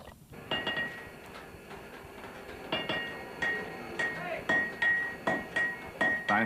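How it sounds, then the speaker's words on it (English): A blacksmith hammers an iron bloom to drive out slag, sharp metallic ringing blows landing in an irregular then steadier rhythm, close and loud, about a dozen strikes. "By hammering the bloom to drive out the slag, a blacksmith could eventually create a bar of almost pure, wrought iron."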